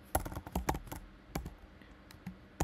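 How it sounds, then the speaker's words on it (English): Terminal command being typed on a Mac computer keyboard: a close run of sharp, uneven keystrokes, several clustered bursts with short gaps, clear and fairly loud with no talking. "we're going to go ahead and type this command in"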